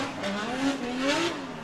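Drift car running a 2JZ engine making 800 horsepower, driven at a drift championship qualifier on a track, its engine droning and revving steadily with tire noise throughout, loud and close.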